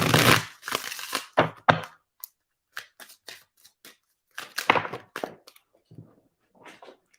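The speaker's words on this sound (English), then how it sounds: "Let me shuffle a little bit more." Tarot cards being shuffled in bursts of riffling and soft slaps, loud and close at first, then thinning to scattered light taps and flicks with pauses between.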